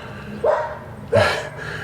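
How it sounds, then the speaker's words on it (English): Dogs barking in an outdoor neighbourhood setting, two sharp separate barks about a second apart, fairly close and loud over quiet background. "all the dogs are going nuts"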